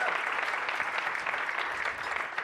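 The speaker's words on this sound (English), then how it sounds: "Let's give everybody a round of applause." A conference audience applauds volunteers, a dense and steady clapping from many hands that holds at an even level throughout.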